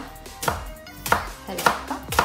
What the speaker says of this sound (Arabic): غادي نعمل واحد 4 ديال الثومات، واحد المثله غادي نقطع حتى هي قطع صغيره